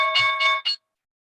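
A trading platform's price alert chimes: three bright bell-like tones in quick succession, the last one shorter, clear and close, then silence.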